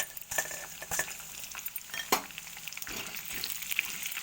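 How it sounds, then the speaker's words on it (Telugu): Roasted gram dal stirred into a Telangana-style attukula popu snack mix frying in a pan with dried and green chillies, giving steady sizzling with scraping stir strokes and light metallic clinks, no talking. "వేసుకొని మంచిగా కలుపుకోవాలి."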